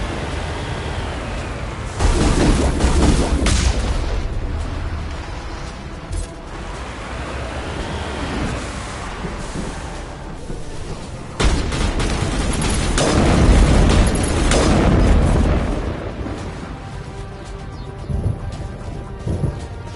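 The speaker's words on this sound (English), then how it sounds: "We must find a way to disable their artillery." Artillery fire and explosions in the video game Mass Effect, Virmire level: two loud booming blasts with long rumbling tails, roughly ten seconds apart, over a constant battle din with scattered distant gunfire.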